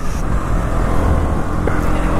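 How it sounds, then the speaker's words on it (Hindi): KTM Duke 200 motorcycle accelerating in fourth gear on an open road, a loud, steady engine drone with buffeting wind close to the rider, pitch holding fairly even across the short stretch. "अभी फोर्थ गियर में है तो फोर्थ गियर का मैं इसका थोड़ा आगे जाके टॉप स्पीड भी चेक करके देखता हूँ गियर वाइज"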